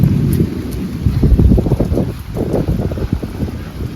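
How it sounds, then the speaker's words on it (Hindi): Rain falls outdoors with gusty wind, a loud rumbling wash of rain and wind buffeting close to the microphone that swells and dips over a few seconds, with no talk. "देखो बारिश हो रही है वहाँ पे"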